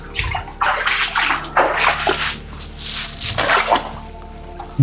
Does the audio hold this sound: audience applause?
no